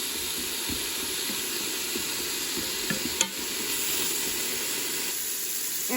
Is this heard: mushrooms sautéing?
yes